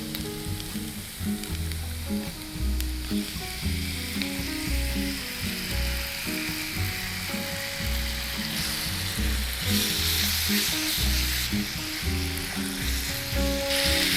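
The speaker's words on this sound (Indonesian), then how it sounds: "Tumis sampai dia agak layu. Baru nanti kita masukin si daging." Onions sizzle and fry steadily in a hot pan while they are stirred, ahead of adding charsiu meat, giving a continuous loud crackle with scraping and stirring knocks, close up, and no one speaks.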